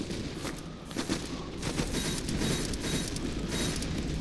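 Gunfire volley in the Master of Command strategy game: dense crackling musket fire rolls on continuously for several seconds, loud and close, with sharp overlapping reports and no voices.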